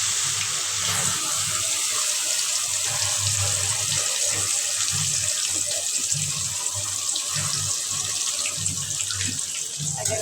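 Olives tipped into hot mustard oil for an olive pickle, producing a loud, steady sizzling hiss that continues unbroken throughout.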